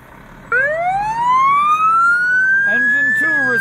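A fire engine from Engine 2 rolls out of a station on a call, its wailing siren sweeping upward and staying loud and close, with short air-horn blasts breaking in near the end.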